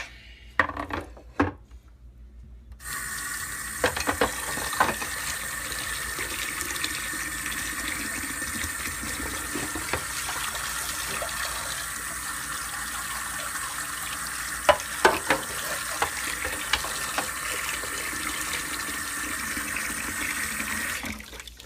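Tap water gushes steadily into a kitchen sink to soak a pan used for making mac and cheese, a continuous close rush with a few light clinks of cookware near the start.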